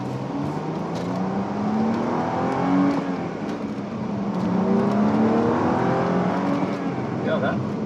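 A Chrysler Crossfire SRT6 with a six-speed manual pulls hard from inside the cabin, its engine note rising steadily with a couple of gear changes, a loud continuous drone throughout.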